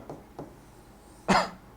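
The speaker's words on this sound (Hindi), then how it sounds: "थोड़ी खांसी आ रही है" A man coughs during a physics lesson, a couple of faint short coughs followed by one louder, close cough, with quiet room noise between.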